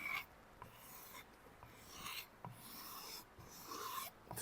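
Kitchen knife being sharpened on a Tormek sharpener, its edge rasping against the ridged stone in short repeated strokes, fairly quiet and close with brief pauses between passes.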